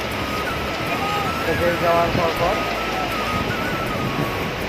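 Sea waves wash along the beach at Himchhari, Cox's Bazar, as a continuous broad rush of surf, while someone talks over the top in the middle of the stretch.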